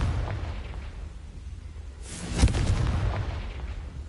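A Confringo explosion spell in the Hogwarts Legacy video game, a single loud, booming burst in the middle of steady low rumbling game ambience.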